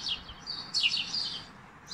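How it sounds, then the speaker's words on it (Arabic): Sparrows chirping in short bursts of high twittering calls, fairly close and clear over a soft background hiss, with no voices. "أسمع هذا صوت العصفور"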